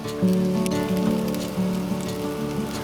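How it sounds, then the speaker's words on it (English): Zucchini fritters frying in a hot pan, a steady crackling sizzle with dense popping spatter running continuously from start to finish, close and fairly loud. "we're going to fry it up"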